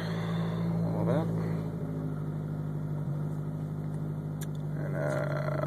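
A turbocharged car engine idles down on a turbo timer with a steady low hum and faint whine, nearby and even, with a small dip in pitch partway through.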